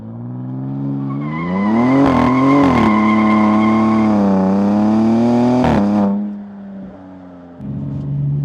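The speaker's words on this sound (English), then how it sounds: "you can do burnouts with the line lock" A loud 2026 Dodge Charger Sixpack Scat Pack engine revs hard during a line-lock burnout while tires squeal in a long sustained screech, the pitch wavering, then the engine drops back to a rumbling idle.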